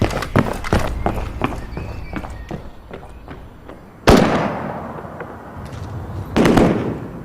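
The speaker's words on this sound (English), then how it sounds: "Most people in the high street mistake the bursts of gunfire for fireworks, but Carl Harries knows better." Bursts of automatic rifle fire crack along a high street during a shooting, a rapid series of sharp reports followed by two louder, closer blasts that ring out and decay, with no speech.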